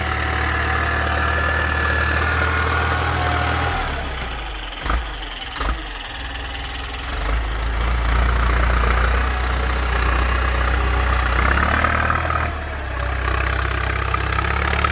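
A loud, steady tractor engine, a Ford 6610, drones throughout, rising and surging as it's revved hard, with a couple of brief sharp knocks partway through.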